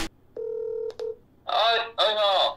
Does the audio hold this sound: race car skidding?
no